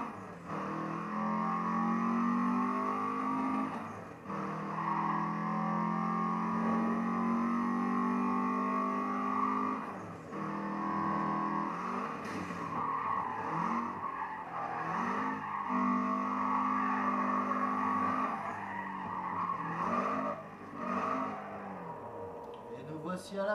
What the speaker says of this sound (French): Le bruit typique d'une Subaru.